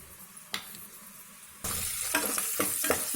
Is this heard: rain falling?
no